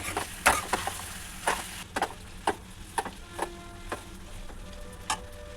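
A spoon scrapes and taps against a pan, stirring chili powder into cooked pasta, in a steady series of sharp clicks about twice a second, close and fairly crisp.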